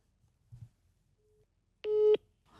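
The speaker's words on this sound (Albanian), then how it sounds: "Dhe tani kemi telefonatën." A short electronic telephone line tone sounds once for about a third of a second, a steady clear beep that stands out loud against near silence, followed by a faint murmur.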